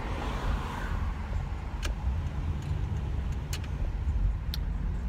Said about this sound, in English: Traffic is backed up.